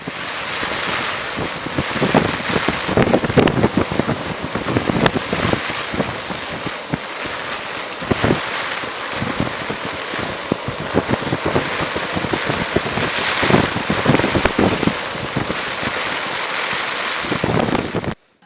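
Heavy rain and strong wind of a cyclone over a coastal area, a loud, continuous roar of gusting wind and pounding water with buffeting microphone noise throughout.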